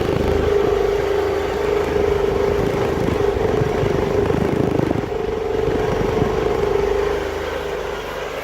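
Wood gas powered engine running inside a garage with the door wide open, heard from outside as a steady, continuous drone with a low hum that holds for several seconds and eases slightly near the end.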